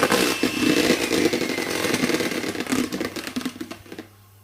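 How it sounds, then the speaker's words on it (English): Electric mixer whisking egg whites toward soft peaks at slow speed, a loud continuous close whir with rattling texture that gradually thins out and stops near the end. "I'm going to whisk on a slow speed until they're the soft peak stage."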